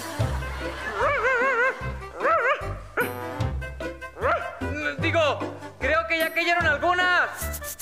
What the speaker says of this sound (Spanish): Mejor ladra.